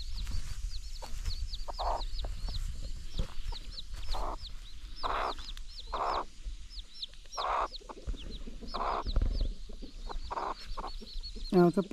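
Hen clucking while guarding her chicks on a rural farm, a close series of low, rhythmic clucks repeated throughout, with high peeping chicks chirping constantly behind her.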